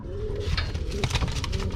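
Sabuni and Kula breed pigeons coo in soft repeated low calls, fairly close, over a constant background hum with a few faint chirps.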